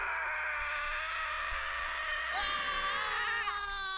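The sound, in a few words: screams from the video game F.E.A.R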